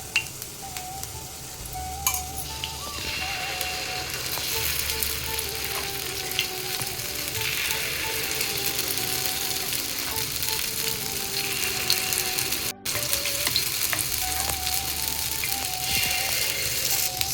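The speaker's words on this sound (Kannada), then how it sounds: "ಸೊ ಇವಾಗ ಪಡ್ಡು ರೆಡಿ ಆಗ್ತಾ ಇದೆ." Paddu batter frying in oil in a paddu pan makes a loud, continuous, close sizzle with faint rattles from the pan underneath, heard alone without talk.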